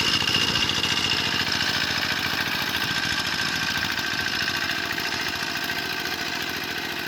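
A small single-cylinder walking tractor engine chugs steadily at idle, close and loud, with a rapid even knocking rhythm and no voices.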